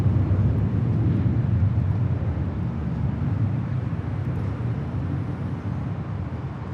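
Delta Airlines Boeing 737-900ER jet departing Los Angeles International Airport, a steady loud low roar of engine thrust holding for the whole stretch with broad rumble and no talk.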